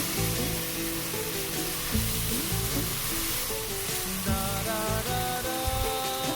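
Steady sizzling and frying of banana flower curry in a pan as vegetables go in and get stirred, with a continuous hiss and some scraping, loud and close.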